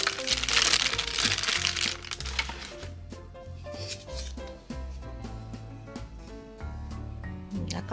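A plastic bag crinkles and crackles continuously as a Hirono Shelter collectible toy figure is unboxed, with loud crumpling at first easing into steady rustling over quiet background music.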